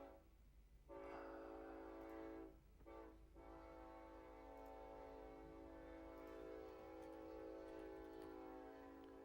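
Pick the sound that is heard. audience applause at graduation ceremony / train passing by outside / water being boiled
train passing by outside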